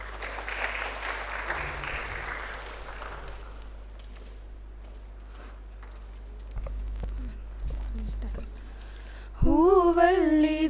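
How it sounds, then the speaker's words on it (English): An audience at a medical college orientation day applauds the invocation singers with moderate clapping that fades over a few seconds. Thumps, then the opening notes of music, follow. "Let's welcome them with a round of applause"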